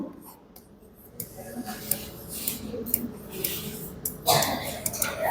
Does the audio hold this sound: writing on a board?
yes